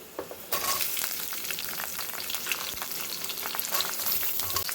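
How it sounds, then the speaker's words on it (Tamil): Small onions drop into hot oil already crackling with mustard seeds and garlic for a brinjal-potato kara kuzhambu; a loud sizzle erupts after a brief pause and keeps hissing and popping close by. "பூண்டு இந்தளவுக்கு வறுபட்டதும் நான் கட் பண்ணி வச்சு சின்ன வெங்காயத்தை சேர்த்துக்கிறேன்."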